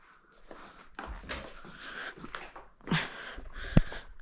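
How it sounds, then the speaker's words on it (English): A neighbour's dog outside, heard indoors, makes muffled, irregular vocal sounds amid steady background noise, with a sharper bump near the end. "dog outside, that's someone's dog"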